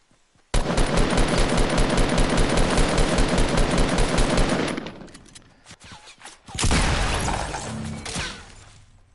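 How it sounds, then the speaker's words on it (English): Sustained rapid automatic gunfire from another player in Fortnite, loud and close for about four seconds, then scattered cracks and a second loud burst of shooting. "This guy shooting at me?"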